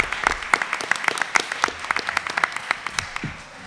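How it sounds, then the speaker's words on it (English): Audience applause at a student recognition event: sparse, distinct hand claps in an uneven rhythm, fairly close and moderately loud, thinning out toward the end. "Yes, big round of applause."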